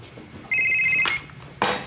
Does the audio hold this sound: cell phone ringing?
yes